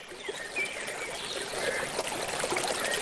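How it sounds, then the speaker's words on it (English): Forest creek flowing in a steady, continuous wash of trickling water, a soft ambient stream loop that stays fairly even and grows slightly fuller toward the end, with no voices. "the closer we get to the forest creek, we start being able to hear the creek"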